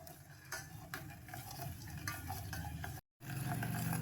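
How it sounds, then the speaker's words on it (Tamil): Palm jaggery dissolving in water in a pan on the stove, stirred steadily: close, continuous scraping and swishing over a soft bubbling sizzle, broken by one brief dropout to silence before resuming. "அடுப்பை ஆன் பண்ணி கருப்பட்டியை கரைச்சிக்கலாம்."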